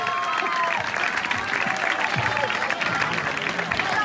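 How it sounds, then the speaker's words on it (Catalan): Sustained applause from a local audience at a bull-festival event in Benifairó, honoring a man who has just sung in public for the first time; dense, steady clapping fills the whole stretch, with faint voices and cheers mixed in. "jo vull demanar un fort aplaudiment per a este home que mai en la seva vida ha cantat"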